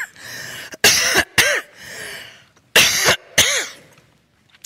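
A person coughing hard up close at an All Saints gathering: four loud, harsh coughs in two quick pairs, separated by a few seconds of quiet room noise.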